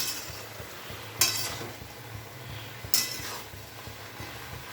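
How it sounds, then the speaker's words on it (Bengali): A ghonto vegetable dish stirred in a pan after sugar goes in: two sharp scraping clinks of the spoon against the pan over a low, soft sizzle. "তারপরে নাড়াচাড়া করে দিই।"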